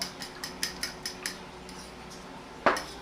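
A spoon scrapes and clinks against a bowl while Old Bay seasoning is stirred into food: a quick run of light taps, a short pause, then one sharper knock, all close and fairly quiet.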